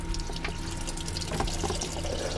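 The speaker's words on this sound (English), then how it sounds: "I'm gonna open up the seacock for just a second, let a little bit of water run in" Seawater rushing in through an opened seacock on a boat and splashing into a small bowl, a steady close gush with light dripping and splashing detail.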